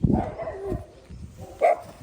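A dog in a neighbor's yard gives a few short, fairly close barks, with a rougher bark near the start and a brighter yelp toward the end.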